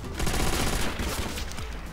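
MG42 machine gun firing in Call of Duty: World at War on PC multiplayer: a dense, unbroken stream of loud, rapid gunfire that fills the whole clip without pause.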